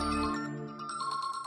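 A phone ringtone plays for an incoming call in a home, a bright repeating electronic melody of tinkling tones, fairly close and clear with no talk over it.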